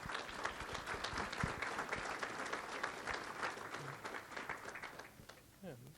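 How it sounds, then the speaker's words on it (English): An audience at a financial planning event claps steadily for several seconds, a dense, moderately distant round of applause that tapers off near the end with a faint voice. "please, a big round of applause to the team that made it possible"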